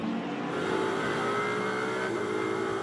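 Ferrari GT3 race car number 93 runs downhill at Barcelona circuit in a continuous loud, steady engine drone with slight pitch shifts, a racing roar sustained throughout.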